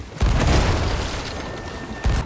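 A single heavy, booming sniper rifle shot in the pirate video game Sea of Thieves, with a long rumbling tail, followed near the end by a second thudding report.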